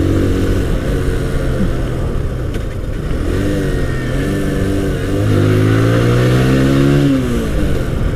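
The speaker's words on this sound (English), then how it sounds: "Apache RTR racing throttle response at your service." A 2020 TVS Apache RTR 160 2V motorcycle pulls away through several gears, its engine note climbing in repeated rising sweeps between shifts, loud and close, under steady road and wind noise.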